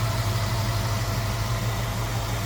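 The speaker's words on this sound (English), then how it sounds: "Engine doesn't hardly wobble, if at all, and sounds good." A 1966 Ford Mustang Convertible engine idles smoothly and steadily, a low, even rumble that holds without dips or wobble for a couple of seconds, close by and alone.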